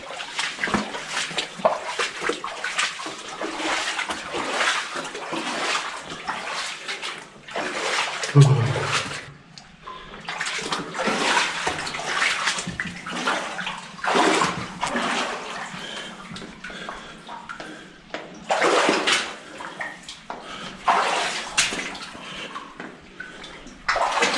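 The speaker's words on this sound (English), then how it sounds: "There's like a river running through it." Water rushing through an old, dangerous mine, heard as loud splashing surges that come and go in bursts with short quieter gaps, close by and echoing.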